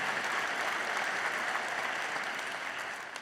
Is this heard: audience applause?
yes